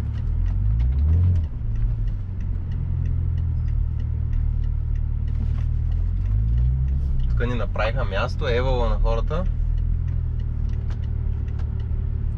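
A 370 hp BMW 535xi E61 wagon tuned with a JB4 moves through city traffic on narrow streets, a low steady engine rumble running beneath someone talking throughout.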